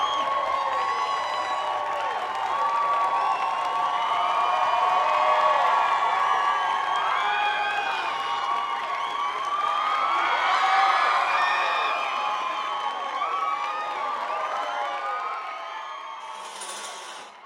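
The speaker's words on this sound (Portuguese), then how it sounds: "A plateia em pé aplaude." A theater audience on its feet applauds at the end of a stage performance, with sustained, dense clapping mixed with cheers and whoops that swell and ease across the whole stretch.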